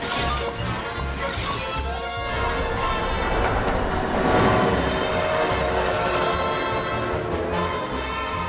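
Runaway train in the Disneyland Adventures video game, a continuous rattling rumble with clattering wheels that swells louder midway, set against game music.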